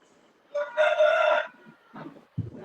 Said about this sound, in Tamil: யாரு வீட்டுல கோழி கூவுது?